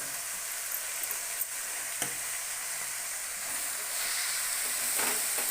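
Manathakkali greens (black nightshade) fry in a pan with a steady, close sizzle and hiss, broken by a few light stirring clicks and growing slightly louder near the end; no one speaks.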